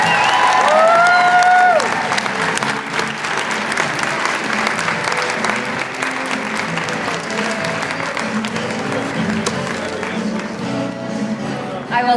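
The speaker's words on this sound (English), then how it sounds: "One more round of applause for Miss Artis." An audience at an awards event for women honorees gives loud, sustained applause, a thick wash of many hands clapping with crowd noise that holds steady throughout.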